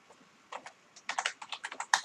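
Typing on a computer keyboard while holding Shift during a word-processing lesson: a quiet scatter of light, close clicks that build into a quicker run of keystrokes, with no talking.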